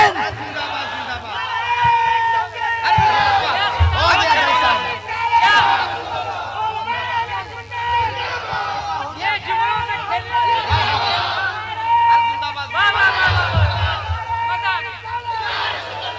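A large crowd at a religious conference roars back in unison to a takbir slogan call, repeated bursts of loud chanting rising and falling across the gathering.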